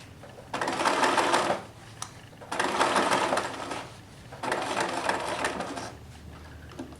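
A sewing machine stitches a set-in sleeve in three sustained runs of steady mechanical whirring, each a second or more long, separated by short pauses, loud and close with no talk.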